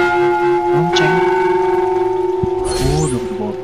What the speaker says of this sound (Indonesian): lonceng